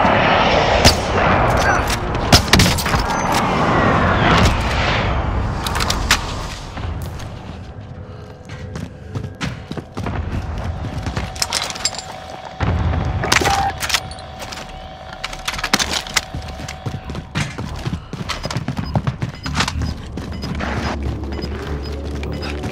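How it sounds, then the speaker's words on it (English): Precision airstrike explosions and gunfire in Call of Duty: Modern Warfare, a dense run of loud booming blasts and sharp shots across the whole stretch, with crashes and mechanical clatter layered in. "Be advised, friendly precision airstrike inbound."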